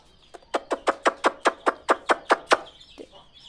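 A quick run of about a dozen evenly spaced clucks from native village hens, close and fairly loud, with no talking.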